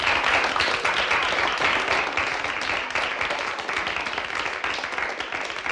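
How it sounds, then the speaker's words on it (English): Crowd applause at a virtual 9-ball pool championship match, steady dense clapping that holds loud throughout with no talk over it. "and the crowd are getting behind it"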